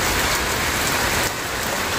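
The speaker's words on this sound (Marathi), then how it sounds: "पाऊस पण यायला लागला." Steady drizzling rain falls close by as a continuous, even hiss that softens slightly toward the end, with no voices.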